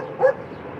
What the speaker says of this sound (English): So, it's a puppy.